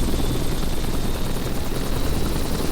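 A helicopter in the Flight Simulator X game drones steadily with a loud, continuous rotor and engine roar, close and unbroken, with no voices.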